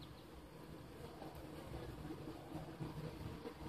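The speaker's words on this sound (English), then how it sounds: "There's a bunch of bees there at the entrance fanning." A dense, steady buzzing drone of honeybees fanning at the entrance of a Warre hive, many humming together close by, continuous and fairly quiet with no pauses.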